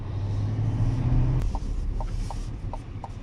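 A 2024 GMC Sierra 2500HD Denali Ultimate full-size pickup with a Duramax diesel engine rumbles steadily on the road, a low continuous drone with a brief higher hum early on and a few faint ticks later.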